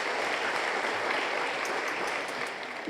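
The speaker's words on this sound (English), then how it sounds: "they deserve a round of applause" An audience at a school instrumental concert and art show applauds the band, a dense, steady wash of clapping that holds strong before easing slightly at the end.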